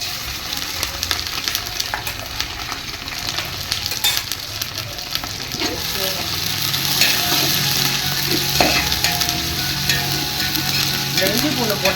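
Onions, green chillies and ginger-garlic paste sauté in hot oil for traditional chicken biryani, a continuous loud sizzle broken by repeated stirring scrapes of a spoon in the pan.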